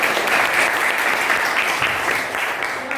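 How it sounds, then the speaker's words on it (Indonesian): Students in a classroom applaud a group, steady dense clapping that stays loud and close for the whole stretch, with faint voices mixed in. "Ini tepuk tangan yang meriah anak untuk kelompok."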